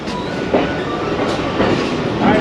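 Aboard the Karachi Express train in Sindh, the wheels beat out a loud, rhythmic clickety-clack over the rails, a repeating clatter of bursts over a steady rumble, with no voices.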